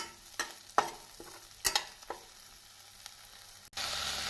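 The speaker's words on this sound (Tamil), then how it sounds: "நாம் காலிஃப்ளவர், தக்காளியை சேர்த்து போட்டு நன்றாக கிளற வேண்டும்" Cauliflower and tomato with onion and green chilli are stirred in a frying pan for cauliflower kootu, several sharp scraping strokes over a soft sizzle that swells into a louder hiss at the end.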